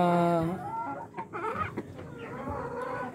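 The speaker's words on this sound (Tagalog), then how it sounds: "Yan yung rooster natin" Rhode Island breeder chickens and a rooster cluck and call nearby on a farm in a run of overlapping clucks and short cries, with no speech.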